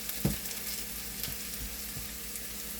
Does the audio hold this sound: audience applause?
no